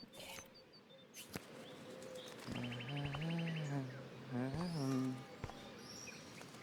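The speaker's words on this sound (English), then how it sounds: "The birds are flocking around Samuel" Birds chirp and coo around a man outside a diner in the video game Life is Strange, a run of tonal calls rising over soft background ambience, fairly close and moderately loud.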